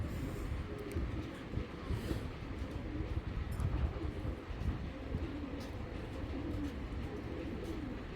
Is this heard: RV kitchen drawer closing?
no